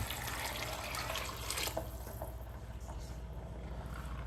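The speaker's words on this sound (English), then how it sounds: "Then I'll cover them with some fresh water and bring it to a boil." Fresh water pours into a pot of black beans in a steady rushing stream for about a second and a half. A quieter low hum and faint splashes continue afterwards.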